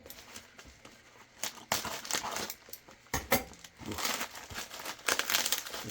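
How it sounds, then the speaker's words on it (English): Plastic toy packaging for a 1980s Teenage Mutant Ninja Turtles figure crinkles and crackles near and loud as scissors cut it open, in irregular bursts of rustling with brief quiet gaps and no talk. "These scissors are much better on some of these packages for sure."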